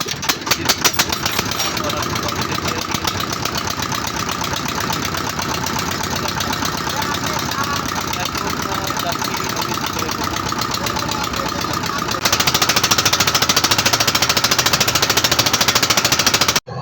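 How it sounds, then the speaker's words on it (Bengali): A river trawler boat's engine runs close and loud, a continuous rapid throbbing chug that holds steady throughout and grows slightly harsher toward the end. "আমরা এখন ট্রলারে করে নদী পার হচ্ছিলাম"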